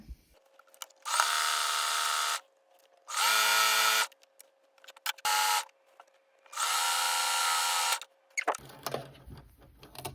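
A sewing machine runs a double zigzag stitch on dress fabric in four separate bursts of a few seconds each, with quiet handling sounds in the pauses.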